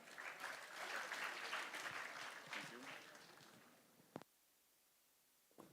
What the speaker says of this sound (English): Can we welcome sir with a huge round of applause,